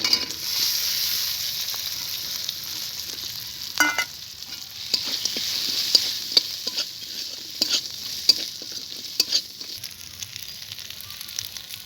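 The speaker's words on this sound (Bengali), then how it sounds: "এবার আমি ভেজে রাখা পিঠেটা দিয়ে দেবো" Fried Bengali pithe cakes go into a hot, sautéed spice masala, which sizzles with a crackling hiss over scraping, clacking stirring strokes from a spatula.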